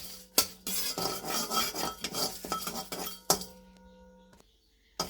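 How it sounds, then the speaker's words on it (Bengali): A spoon scrapes and clinks against a hot wok as whole biryani spices are dry-roasted over low heat, quick irregular stirring that fades to quiet near the end. "এটাকে ভালো করে নাড়তে হবে।"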